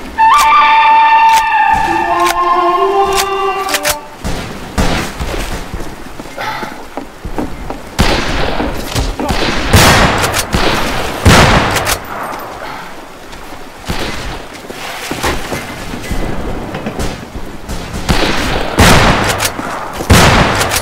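Loud, rapid gunfire from a Western shooter game, Fistful of Frags, on hard mode: repeated sharp shots and bursts crackle almost continuously over a busy game soundscape, with chiming musical tones at the start.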